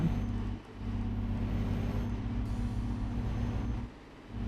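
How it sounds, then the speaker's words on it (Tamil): An old vintage truck driving along a road, its engine giving a steady, loud low rumble that dips briefly twice as the driver works through low gears. "இந்த ரோட்டில் தான் இப்போ ஓட்டிகிட்டு போயிட்டுருக்கேன்"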